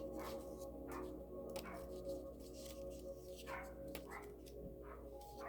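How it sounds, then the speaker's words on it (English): Dog barking late at night: several faint, distant barks and yips spread across a steady low hum, with no talking. "And the dog is barking."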